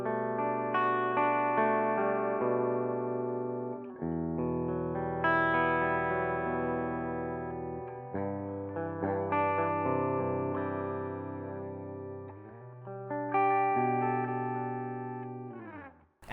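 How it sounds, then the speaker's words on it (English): Clean electric guitar played through a Two-Rock Classic Reverb amp, ringing chords and melodic lines with sustained notes and light reverb, steady and fairly loud throughout with no talking. "let's hear what the clean sound sounds like."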